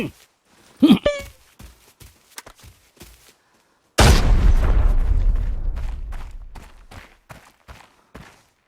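In the Arena Breakout shooter game, a thrown bomb bursts with a heavy, close boom that rumbles and decays over several seconds, preceded and followed by sharp clicks and footsteps.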